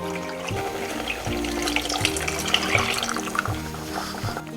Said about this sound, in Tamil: இப்போ நான் இது கூட 1 டம்ளர் தண்ணீர் சேர்த்துக்க போகிறேன்.